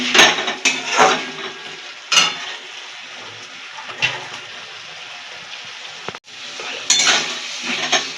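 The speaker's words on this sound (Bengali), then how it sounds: "আর কিছুক্ষণ মশলাটাকে কষতে দেবো" Masala spice paste is stirred and fried in a pan for an egg curry, with repeated scraping strokes of a spatula against the metal and a gentle sizzle between them, close and fairly loud.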